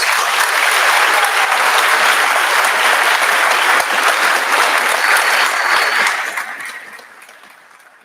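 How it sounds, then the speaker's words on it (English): A large graduation audience at Tamarac High School's 2025 ceremony applauds a piano performance, loud and sustained massed clapping filling the venue before tapering off over the final seconds. "big round of applause for his performance."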